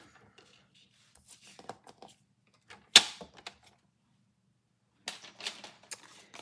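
Card stock sliced along a score line with a paper trimmer for a Christmas bridge fold card, a sharp close cutting swish around the middle set among quieter handling clicks and taps.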